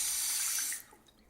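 Tap water runs steadily into a basin during the washing of wudu, a bright rushing stream that cuts off about halfway through, leaving only faint drips and room quiet.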